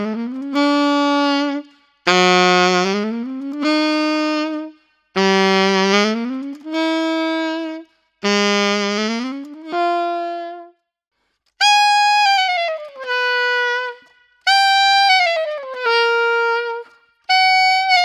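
Saxophone works through a chromatic glissando exercise, playing a series of sustained notes that each slide smoothly up or down in pitch, separated by short breaths, solo and close.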